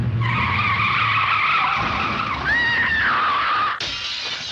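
An airport shuttle bus skids and plows into several cars, a long loud tire screech with shifting squealing tones and a sudden change of noise near the end.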